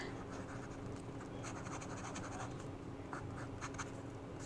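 Purple Lamy Safari fountain pen with a Lamy Cursive nib writing on paper, continuous soft scratchy strokes with short repeated bursts, faint and close with no talking.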